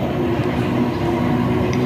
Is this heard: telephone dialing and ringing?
no